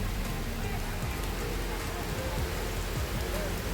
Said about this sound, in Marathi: तर बघा लगेच पाऊस पडायला लागला. आणि पाऊस एवढा फास्ट आहे